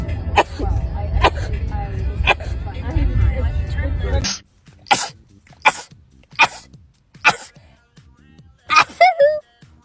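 A single loud human sneeze bursts out amid close, overlapping talk, followed by a quieter stretch with several short, sharp vocal bursts and faint background noise.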